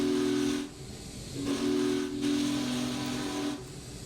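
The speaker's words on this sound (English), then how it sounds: "We'll blow this whistle again." The Big Boy steam locomotive in the Smokebox train simulator game sounds a steady chime whistle in two long blasts, with a soft hiss of steam between and under them.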